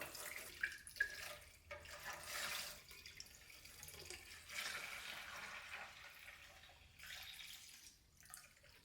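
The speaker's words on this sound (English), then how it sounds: "Pour it in here." Liquid pours and splashes in uneven bursts into a container, close by, with a few sharp clinks and drips between longer rushing pours, during a carburetor rebuild on a 1974 Ford F100.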